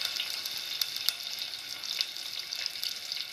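Onion pieces dropped into hot oil with mustard seeds and cumin, a steady bright sizzle with a few sharp crackles and pops, close and alone.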